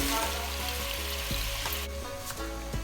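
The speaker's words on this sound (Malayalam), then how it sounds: "നമ്മൾ നേരത്തെ മാരിനേറ്റ് ചെയ്ത് വെച്ചിട്ടുള്ള ചിക്കൻ ഒന്ന് ജസ്റ്റ് ഒന്ന് ഫ്രൈ ചെയ്തെടുക്കണം" Marinated chicken fries in a pan for chicken curry, a close, steady sizzle with bursts of crackling and occasional stirring scrapes.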